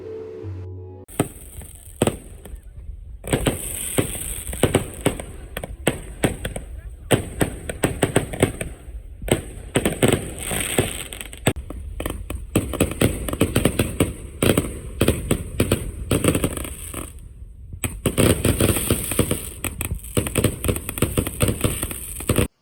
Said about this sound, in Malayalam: ഒരു ഗ്രാൻഡ് ഫയർ വർക്കോട് കൂടിയിട്ട് പ്രോഗ്രാം റാപ്പ് ചെയ്തു